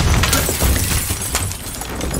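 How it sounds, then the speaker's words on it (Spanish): Glass shattering in the Call of Duty: Modern Warfare campaign, a dense crashing burst of breaking panes amid loud continuous game noise with scattered crackling debris. "Como suena todos los cristales."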